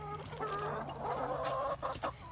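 Chickens at feeding time cluck and murmur close by, a busy overlapping chatter of several birds over a steady background, with no one speaking.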